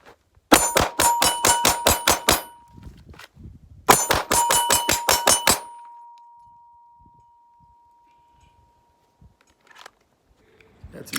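A Glock 43 handgun is handled and checked, with two quick runs of sharp metallic clicks and clacks, each about eight rapid strikes, separated by a short pause and followed by a fading ring.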